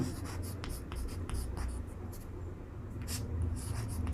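Chalk or marker tapping and scraping on a board as a trigonometry problem is worked out in a classroom, a steady run of quick strokes over a low background hum, with no talking.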